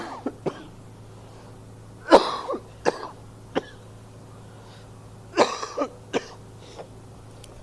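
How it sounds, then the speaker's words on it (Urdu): A man delivering a religious lecture coughs and clears his throat several times, with two heavier bursts of coughing standing out against a quiet room and no speech in between. "میری کھانسی کی آواز آپ کے کانوں پر اگر بار گزرے تو میں پیشگی اس کے لیے معذرت چاہتا ہوں۔"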